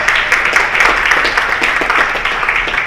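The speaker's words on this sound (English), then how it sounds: "please give them a round of applause" Audience applause at an event in a performing arts center theater, a dense steady wash of many hands clapping, loud and sustained throughout with no pauses.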